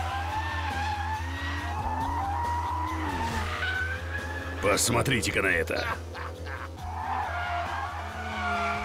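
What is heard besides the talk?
Aston Martin DB11 drifting on race track, tires skidding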